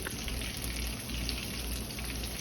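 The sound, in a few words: shrimp frying in hot oil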